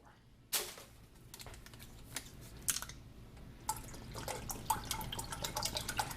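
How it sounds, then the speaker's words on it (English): Bottled water poured into a cooking pot for macaroni and cheese, beginning with a sudden splash and continuing as irregular close splashing and trickling that grows busier toward the end. "We're going to add 3 of these things, 3 bottles of water."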